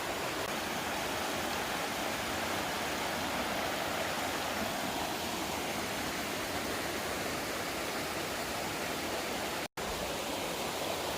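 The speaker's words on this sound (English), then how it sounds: "I stumbled across this little creek here." A small mountain creek tumbles over rocks, a constant full rushing wash of water heard close up, steady throughout apart from a momentary cutout near the end.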